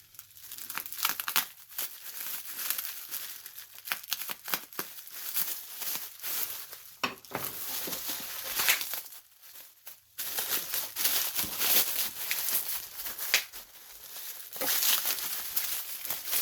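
Tape and packaging are peeled, torn and crumpled while a Colwood Detailer pyrography burner is unboxed, a close, continuous crinkling and ripping with brief pauses in between.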